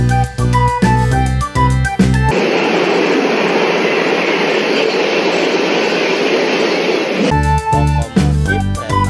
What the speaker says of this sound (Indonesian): Lokomotif kereta